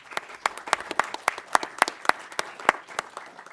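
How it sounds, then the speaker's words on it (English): A live audience at a political satire panel event applauds as a guest is welcomed, with a string of sharp, distinct claps in an uneven rhythm, close and clear with no talking over them. "A round of applause"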